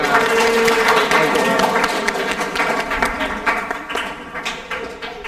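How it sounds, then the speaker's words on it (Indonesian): A class of participants in a public speaking session claps together in a short, lively round that fades into scattered individual claps, with some voices over the group. "Oke, tepuk tangan buat kita semuanya."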